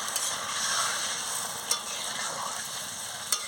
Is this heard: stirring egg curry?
yes